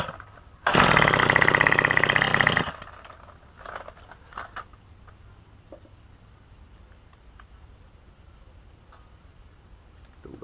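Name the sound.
Craftsman trimmer engine running and dying during carburetor tuning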